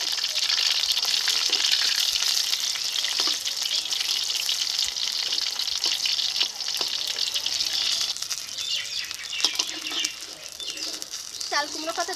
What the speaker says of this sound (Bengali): একটা সাইড ভাজা হয়ে গেছে, এখন উল্টে দিয়ে আরেকটা সাইড ভেজে নেব।